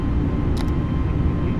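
An Airbus A320 airliner in Microsoft Flight Simulator 2020 during a go-around out of Manchester, its engines giving a steady, loud, broadband rumble throughout, with a brief faint higher click partway through.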